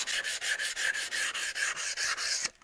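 A bench vise is hand sanded in a steady back-and-forth rhythm, about a dozen even rasping strokes, close and loud, stopping abruptly at the end.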